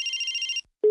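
A telephone rings with a warbling electronic trill that cuts off, followed after a short gap by a steady tone starting up, heard up close in a clay-animated children's cartoon.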